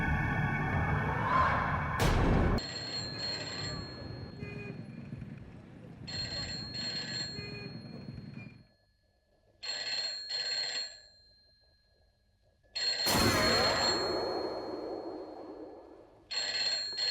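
A telephone rings in repeated bursts with pauses between them during a Hindi devotional TV serial, loud and close, with a sharp clatter early on and some talk around it.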